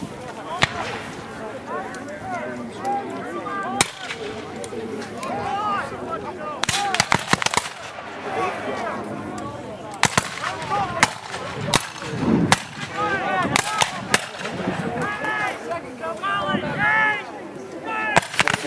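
A battle line at a Civil War reenactment fires musket volleys, sharp scattered cracks and bangs popping at irregular intervals over a noisy outdoor crowd with talk throughout.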